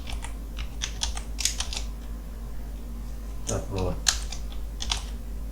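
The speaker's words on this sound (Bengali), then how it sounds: "এখানে আমরা এখন হাতে লিখব লেভেল কোড স্টার্টিং" Keys on a computer keyboard tapped in short bursts of clicks, moderately close, while a tutorial on setting up a WordPress contact form is typed; a brief spoken word slips in partway through.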